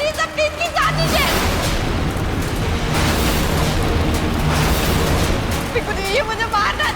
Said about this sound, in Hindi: लोहड़ी की आग में पटाखे किसने डाले?